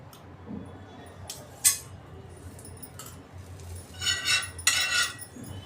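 A utensil spreads butter across a hot tawa on low flame for cheese garlic bread, giving sparse close metallic clinks and scrapes, with a busier cluster of scraping near the end.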